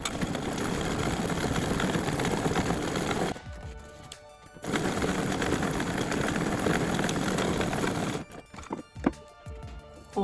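A sewing machine stitching around the edge of fabric for a doll carrying case, a loud steady mechanical whir running close up, cutting out briefly in a short pause and then resuming.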